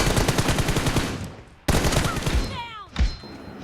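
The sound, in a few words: gunfire in the video game Free Fire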